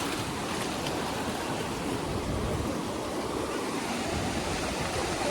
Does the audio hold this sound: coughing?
no